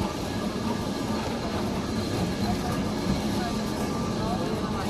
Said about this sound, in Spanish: El tranvía más de 100 años.